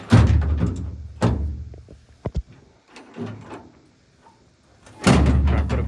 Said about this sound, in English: I put up the tailgate with one hand and film with the other